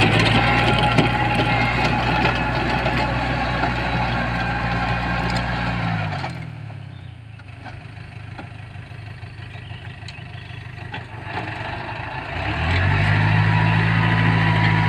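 An Iseki NT 548F tractor shaping beds in a corn field, its diesel engine running steadily and loud, dropping to a quieter idle midway before picking back up.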